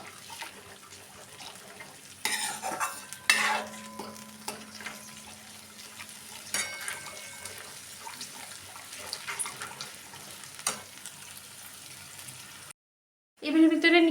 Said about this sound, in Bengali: যতক্ষণ দইটাতে একটা ফুটে যাচ্ছে একবার, ততক্ষণ এটাকে নাড়তে থাকবো